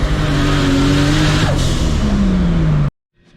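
A MKIV Toyota Supra accelerates hard through first and second gear, its engine loud and close, with a rising roar, a quick shift partway, then building again before cutting off abruptly.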